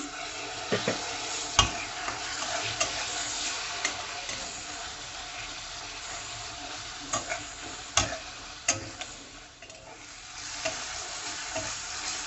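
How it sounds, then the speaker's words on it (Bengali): Masala for dhaba-style dal tadka sautéing in a pan with a splash of water, giving a steady moderate sizzle with intermittent scraping stir strokes and a few sharp clicks, close and without talk. "মশলাটা যাতে পুড়ে না যায়, তাই সামান্য একটু জল দিয়ে দিয়ে আমি এটা কষাচ্ছি।"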